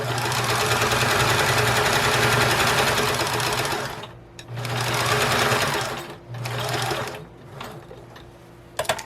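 A sewing machine stitches a seam in upcycled DKNY curtain fabric, running in a long steady burst for about four seconds, then in shorter bursts with brief pauses, ending on a few quick clicks.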